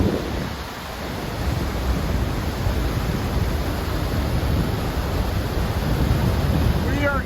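The upper falls in Yellowstone thunder in a dense, continuous roar at dawn. The sound is loud and steady from start to finish, with some wind buffeting the microphone and no talking.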